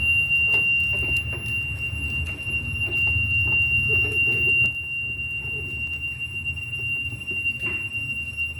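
A golf cart's reverse warning sounds as a steady, high-pitched electronic tone that runs unbroken throughout, over a low rumble and scattered light clicks and knocks.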